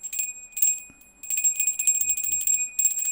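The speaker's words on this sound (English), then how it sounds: "So we're going to ring the bell." A small bell is rung repeatedly in quick bursts of bright, ringing strikes with short pauses between, close and clear, with faint background sounds.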